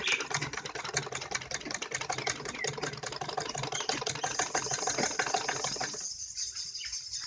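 A sewing machine runs a fast, whirring, rattling line of stitches along a kurti collar backed with buckram. It sounds close and steady, then stops abruptly near the end, leaving quiet.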